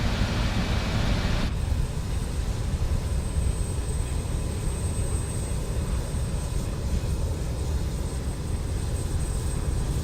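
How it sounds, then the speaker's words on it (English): APU running on a Just Flight RJ airliner in Microsoft Flight Simulator: a continuous low mechanical drone with a thin high whine, steady and moderately loud, with no voices. "you can literally hear that the APU is running much louder than the engines at idle"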